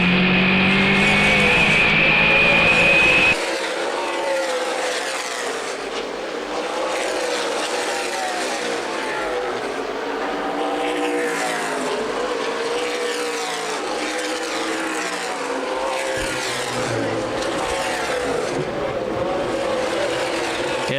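Stock car race cars circle Winchester Speedway in a close battle, engines snarling and rising and falling in pitch as the pack passes, with a loud higher-pitched roar at the start and a public-address announcer talking over the racing.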